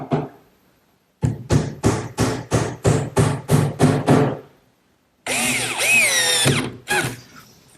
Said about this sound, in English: I'm using screws, being sure to pre-drill some holes.